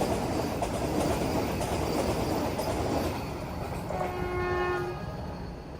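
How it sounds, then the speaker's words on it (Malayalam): The Mangalore–Thiruvananthapuram Vande Bharat express rumbles loudly into Munroe Island railway station in Kerala, its wheels and carriages roaring close by before a sustained horn blast sounds near the end. "ആദ്യം തന്നെ ഇവിടെ വന്നിട്ട് കാണുന്ന ട്രെയിൻ മംഗലാപുരം തിരുവനന്തപുരം വന്ദേ ഭാരത്."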